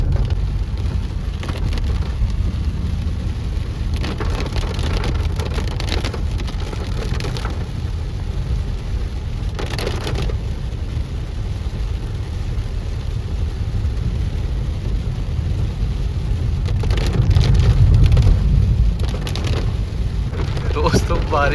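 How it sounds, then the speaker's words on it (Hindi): Heavy rain hammers a car during a night drive near Marchula by Jim Corbett, a loud continuous roar with low road rumble and wipers that cannot keep up, alone with no talk and swelling briefly near the end. "दोस्तों बारिश भी पूरे चरम पे है बिल्कुल, इतना ज़्यादा देखो कितनी तेज़ बारिश हो रही है"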